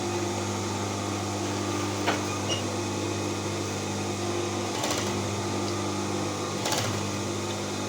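A sewing machine stitches fabric, joining a garment's neck piece to its body: a steady, close motor whir with a few light clicks and no talking.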